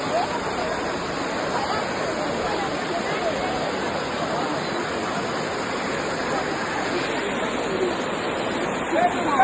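Steady, dense rushing of falling water fills the whole stretch, a constant roar with no breaks.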